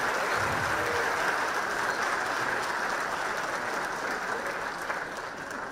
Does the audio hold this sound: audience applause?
yes